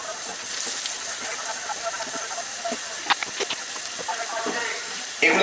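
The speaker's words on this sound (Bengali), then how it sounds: "এখন আমি একটা কড়াইয়ে তেল গরম করে তার মধ্যে কিছু পেঁয়াজ আর রসুন আর আদার কুচি দিব" Chopped onion, garlic and ginger sizzling in hot oil in a wok, a steady hiss with scattered crackles and pops, fairly close.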